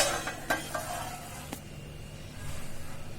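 Black pea usal hits hot tempering in a pan with a bright sizzle, a few sharp clinks of utensils early on, then a quieter steady frying hiss.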